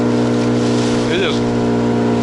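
A steady motorboat engine on a new boat drones loudly and continuously on a flooded taiga river, with a brief whistling sound rising over it midway.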